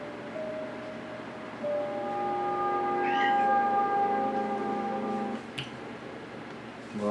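A pet cat gives a long, drawn-out meow that wavers in pitch, steady and close, sounding almost like a siren before it cuts off near the end.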